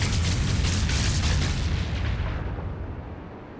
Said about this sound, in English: For the explosion it causes on impact,